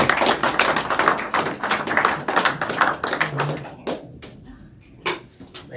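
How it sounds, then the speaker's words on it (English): Applause at a small investor meeting, a short patter of a few people clapping that thins out into scattered claps. "Give him a round of applause"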